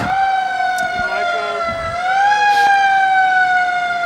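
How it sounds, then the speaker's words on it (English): A Henrico County brush Jeep fire vehicle sounds its siren in a holiday parade, a loud steady wail that rises and falls slightly. Crowd noise and faint voices sit underneath. "The brush Jeep there from Henrico County"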